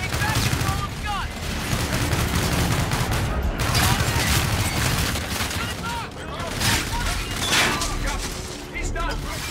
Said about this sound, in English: using our Aedis guns to shoot down the fleet